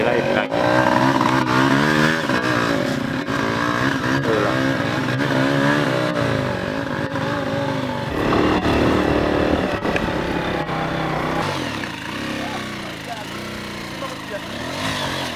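A motorcycle engine drones and revs steadily throughout, shifting pitch as it accelerates and slows, with voices faintly mixed in.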